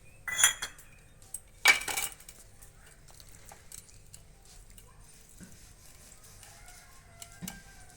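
A spoon clinks sharply against a bowl twice while boiled, thinly sliced potatoes are mashed, followed by faint scraping and soft knocks in a quiet kitchen.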